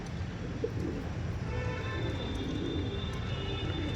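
A Rampuri pigeon coos softly in a loft, its low murmuring calls faint and intermittent over a quiet, noisy background.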